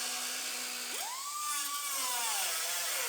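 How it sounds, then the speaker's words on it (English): A power tool trims the quarter panel of a 2013 Buick Enclave, a steady high whine that rises in pitch as the motor speeds up, over constant hiss, close by with no talking. "we're going to trim our quarter now"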